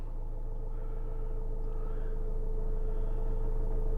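A car engine idles steadily right after starting, giving a constant low rumble with a steady mid-range hum. It holds even and moderately loud throughout, with no talk.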